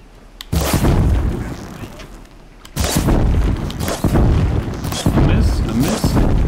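Loud, heavy booming bursts from a fire-arrow attack in Horizon Zero Dawn, with a rumbling roar that swells and drops in waves and sharp impacts recurring every second or two, while a voice talks over the combat.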